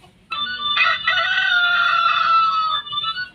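A voice imitates a rooster crowing: one long, loud, close cock-a-doodle-doo held for a couple of seconds.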